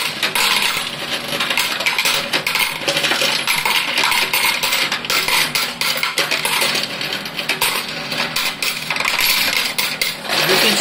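A PARAS-550/1 coin counting and sorting machine runs with mixed rupee coins, a dense, loud, continuous metallic clatter and jingle as coins tumble into separate boxes, sustained throughout with no voices.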